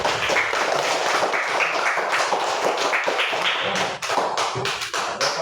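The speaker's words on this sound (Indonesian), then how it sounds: "Tepuk tangan ya" An audience in a classroom or lecture setting claps continuously for several seconds, a dense, loud, even patter of many hands.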